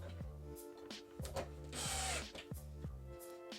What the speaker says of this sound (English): we'll just put our 4 wood screws on the bottom here